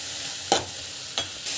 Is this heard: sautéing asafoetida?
yes